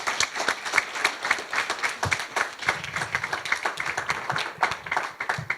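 An audience at an Athens congress panel on the austerity crisis applauds, crisp individual claps merging into steady, moderately loud applause that carries on without pause.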